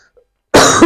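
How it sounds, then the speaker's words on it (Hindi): One loud, harsh cough bursts out at close range after near silence, rough and throaty, from a teacher in the middle of a class. "खांसी बहुत ज्यादा आ रही।"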